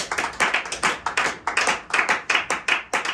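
A church congregation at a service claps together to acclaim the Holy Spirit, a brisk, fairly regular run of many hands close by, with no voices.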